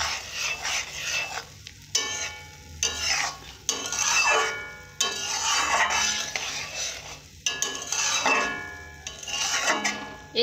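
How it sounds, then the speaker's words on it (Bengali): Puffed rice (muri) stirred around a pan with a utensil, giving loud, close scraping and rustling strokes in repeated bursts with short pauses between them, and no talking. "মুড়িটাকে ভালো করে নেড়ে চেড়ে নেব এইভাবে।"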